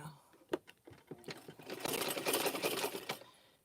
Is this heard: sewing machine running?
yes